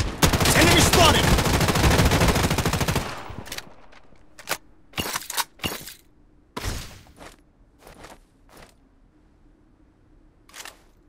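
Rapid automatic gunfire in a shooter video game rattles loud and dense for about three seconds, then gives way to scattered single shots and short bursts over a quiet background.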